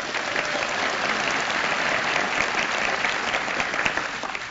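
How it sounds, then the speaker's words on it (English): Sustained audience applause at a conference speech, dense steady clapping from a crowd filling the whole stretch at even loudness, with no speech over it. "So give me short applause and I'll start again."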